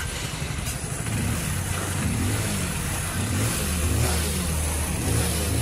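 A Hero Splendor BS6 motorcycle engine revs up and holds at high RPM after repair, a loud continuous buzzing drone with a slight rise and fall, close by and without talking.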